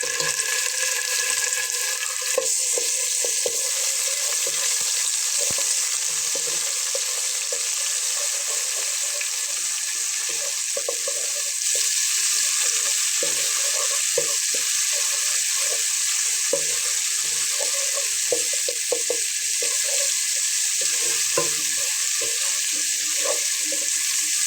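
Whole cumin seeds fry in hot oil for a Bengali lentil dish, a loud, continuous crackling sizzle close by, with occasional scraping knocks from stirring; no voices.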